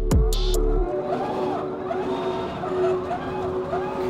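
K1 Speed electric drift go kart circling an indoor track in a 360 drift, a steady whining motor tone with wavering pitch sweeps and a brief thump at the start, continuous and close.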